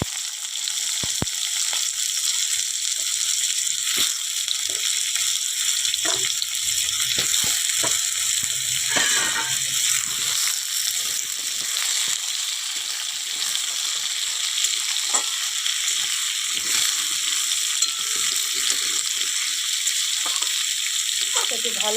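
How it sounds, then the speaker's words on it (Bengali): Pumpkin and potato pieces fry in hot oil for a pumpkin ghonto, a continuous close sizzle with occasional stirring clinks and scrapes throughout. "আর দেখো তেল গরম হয়ে গেছে, কুমড়ো দিয়ে দেব"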